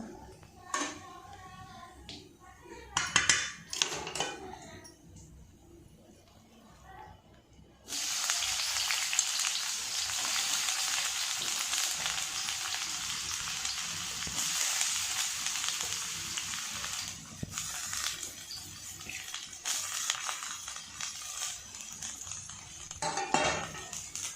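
Cardamom pods, cinnamon bark, four cloves and a bay leaf drop into hot oil for a chicken curry. A few light clinks come first, then a loud, steady sizzle begins suddenly and holds, with occasional stirring clatter.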